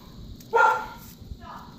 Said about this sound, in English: Sorry, that's my dog, Willow.